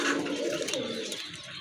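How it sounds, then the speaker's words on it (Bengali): A desi pigeon, white with black speckles, gives a soft, close, low cooing call that runs continuously through the short moment. "এটা হচ্ছে সাদার ভিতরে কালো কালো ফোটা ফোটা টাইপের কবুতর"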